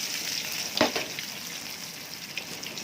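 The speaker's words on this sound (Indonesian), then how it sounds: "Oke, minyaknya sudah panas, kita goreng nuggetnya ya" Chicken nuggets frying in hot oil give a steady broadband sizzle with crackles throughout, and one sharper pop stands out near the start.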